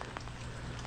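Steady rain falls through the night on a farm in the Philippines, a dense, even hiss of drops on surfaces with a low continuous rumble underneath, heard alone without any voices.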